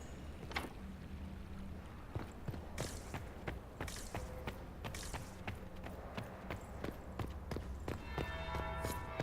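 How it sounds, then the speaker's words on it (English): A church bell tolls in the distance, a faint series of evenly spaced strikes repeating through the stretch with no voices over it. "That would be the second bell."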